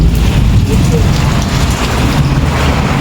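Heavy rain pours steadily outdoors, a loud, dense and continuous hiss with a low rumble underneath, close by and with no speech over it.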